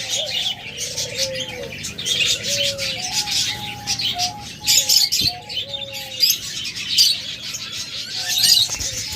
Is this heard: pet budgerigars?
yes